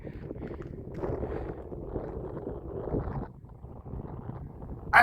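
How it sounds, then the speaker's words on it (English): Wind gusts across the open, icy, boggy ground of Rannoch Moor below snowy mountains, buffeting the microphone in a low, uneven rumble at moderate loudness. "And there's a bit of a wind blowing."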